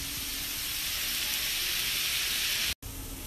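Brussels sprouts laid face down in a hot pan with sliced garlic and salt give a steady, close, loud sizzling hiss that holds throughout, broken only by a brief cut near the end.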